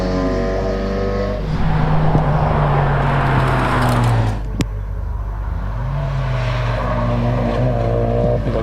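A hillclimb race car sweeps past at speed, its engine note building to a loud, close roar around the midpoint before dropping away, with the engine of another car droning steadily underneath throughout.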